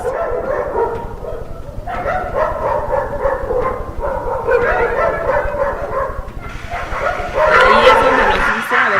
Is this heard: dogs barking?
yes